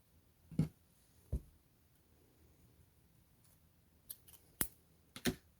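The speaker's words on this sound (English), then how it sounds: "Let's get my scissors." Scissors snip crochet yarn in a quiet room, a few sharp isolated cuts, two early and a quick cluster of three or four near the end.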